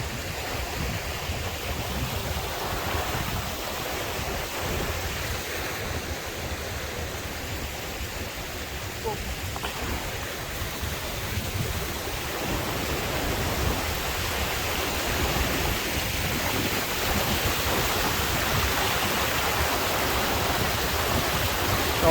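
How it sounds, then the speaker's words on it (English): A waterfall in Snowdonia near Llyn Idwal roars with a steady broadband rush of falling water, constant and fairly loud throughout with no voices. "Here we have another waterfall."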